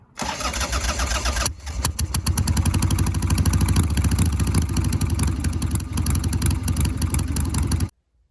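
A Harley-Davidson motorcycle engine cranks briefly, then catches and settles into a loud, steady, throbbing idle close by for several seconds before cutting off abruptly.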